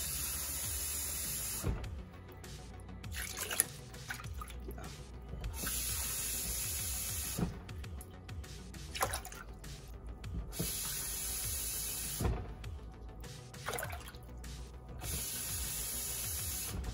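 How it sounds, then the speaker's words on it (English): Water splashes into a cooking pot from a tap or pitcher with a steady, close hiss that continues across the whole stretch, broken by a few brief clanks and pauses. "get 6 cups of water and pour it into the pot"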